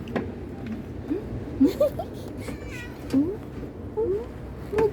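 A cat meows repeatedly in short rising calls, fairly close, with someone talking softly in between and faint background noise.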